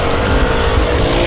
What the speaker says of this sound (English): It's a hell of an engine